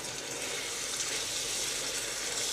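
Salty, cheesy food sizzling steadily in a hot pan during a stir, a continuous close frying hiss with faint scraping, no voices.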